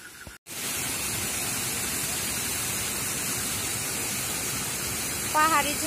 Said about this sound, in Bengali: পাহাড়ি ঝর্ণা, পাহাড় থেকে জল নেমে আসতেছে, নদী থেকে বয়ে চলেছে।